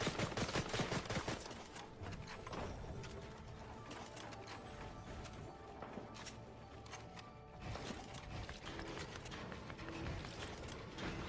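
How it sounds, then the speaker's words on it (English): Rapid bursts of gunfire from several players in a Fortnite match crackle almost nonstop, dense overlapping shots and automatic rattles with a brief lull near the middle before the firing picks up again. "I have multiple teams shooting at me right now"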